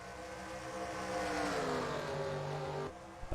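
Several stock cars race at Bristol in NASCAR Racing 2003, their engines droning and shifting in pitch as they run close together, loud and steady before dropping away near the end.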